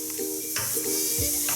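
Thin slices of beef for tagliata sear in a hot pan, giving a steady, close sizzle with brief swells and a few clattering stirs.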